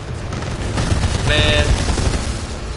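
Mortar Titan bombardment in Titanfall 2 Frontier Defense, a rapid barrage of booming explosions and rattling gunfire, rising in intensity midway with a brief tonal whine, loud and close throughout.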